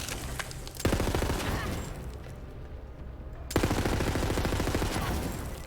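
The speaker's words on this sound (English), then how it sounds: "I think I like this gun. It shoots real fast and kills shit." Rapid automatic gunfire from a fast-shooting gun in the video game Borderlands 3, loud and continuous bursts with dense repeated shots, a brief easing in the middle before another sustained stream of fire.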